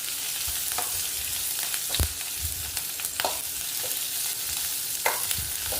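Ten green chillies fry in hot oil in a pan, a steady close crackling sizzle with a few sharper pops and the occasional scrape of stirring.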